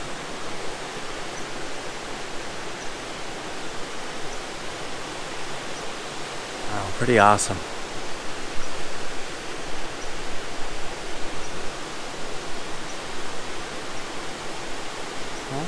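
Steady broadband roar of Saxon Falls pouring over a dam in Gogebic County, Michigan, constant and close throughout, with a brief voice speaking partway through.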